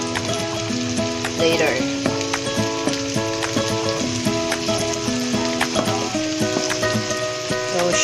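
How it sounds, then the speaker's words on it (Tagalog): Potatoes fry in a pan beside an adobo estofado, giving a loud, continuous sizzle with crackling spatter and occasional stirring clinks, while music plays in the background and a voice speaks briefly. "And also the potatoes are cooking aside."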